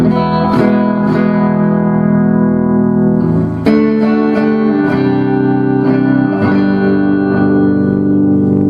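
Electric guitar plays through a Fender amp with reverb on, sustained chords struck every couple of seconds, each attack ringing into a long, washy reverberant tail, loud and close.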